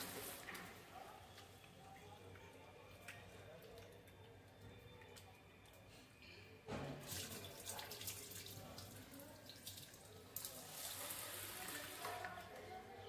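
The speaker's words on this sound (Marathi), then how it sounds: "1 ग्लास मसुरीची डाळ धुवून घेते" Red lentils are rinsed in a kitchen sink under running tap water, giving a faint, steady splash that grows louder midway and swells again near the end, with a voice speaking softly at times.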